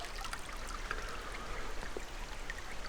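A creek in Norway flows in a soft, constant rush and trickle, quiet and somewhat distant, with no voices.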